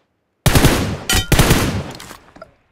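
A loud, close burst of rapid automatic gunfire in a shooting video game, a long rattling volley broken by a brief gap, then a fading tail.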